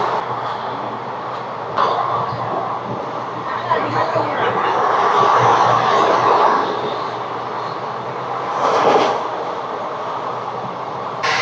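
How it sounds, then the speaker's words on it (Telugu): Local train running alongside the moving Tirupati Express, a broad roaring rush that swells in the middle and surges again near the end, heard steadily without talk. "మాటల్లోనే ఇంకా లోకల్ ట్రైన్ వచ్చింది"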